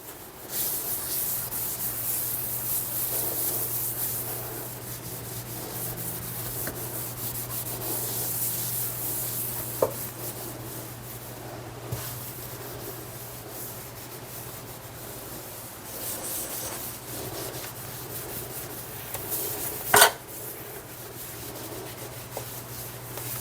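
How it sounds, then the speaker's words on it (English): A ceramic cooktop scouring pad scrubs a kitchen sink with steady, close rubbing and scratching that continues for over twenty seconds, with a few small knocks along the way. "And the little special ceramic or cooktop scouring pad here."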